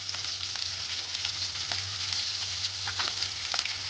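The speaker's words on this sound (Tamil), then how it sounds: "இப்போ நாங்கள் தாளித பொருட்கள் எல்லாம் ஒரு வடிவாக இந்த எண்ணெயில்" Green chillies, dried red chillies and curry leaves crackle and sizzle steadily in hot oil, a dense continuous frying hiss with small pops scattered throughout, close and fairly loud.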